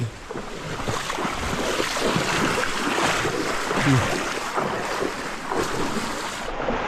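Irrigation water for a rice paddy rushes steadily and continuously with a broad wash of noise, loud and close, with a gusty, wind-like texture throughout.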